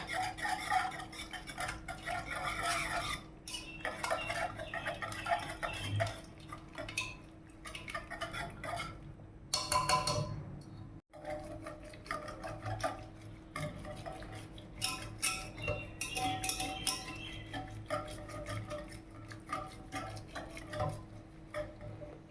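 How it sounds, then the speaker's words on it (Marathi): Cooked dal and rajma mashed with a wooden churner in a pot, repeated rhythmic knocking and clattering strokes against the vessel, moderately loud and close, with a brief pause midway. "याला मी या रवीने थोडंसं बारीक करून घेते।"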